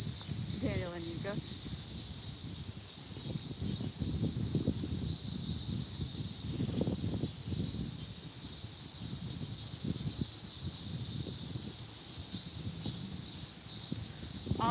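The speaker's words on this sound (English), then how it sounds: "Maybe it's because you're hearing cicadas in real life" Loud cicadas in a Tokyo park keep up an unbroken, shrill high drone throughout, with soft low rustles and footsteps beneath it.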